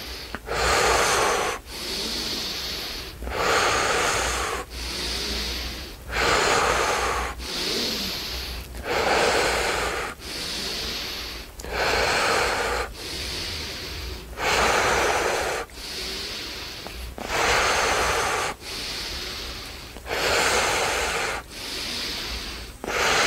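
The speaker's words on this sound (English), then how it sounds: "Breathe in." A person breathes forcefully during guided breathwork for stress relief, with about a dozen loud, rushing breaths in a steady rhythm of one every couple of seconds, close and alone.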